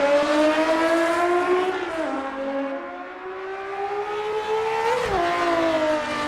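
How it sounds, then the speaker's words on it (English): The engine of an M1 race car roars loud and close, holding a harsh, steady drone with a couple of brief pitch dips and climbs as the revs shift. "The roar of the M1 fills the air with fury, probably the loudest and angriest sound we've heard so far."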